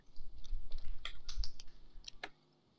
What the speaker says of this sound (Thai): เสียงกดคีย์บอร์ด